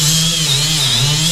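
A power tool grinding down an excess weld on a Ford Ranger frame, with a steady, loud, continuous whine close up and no pauses.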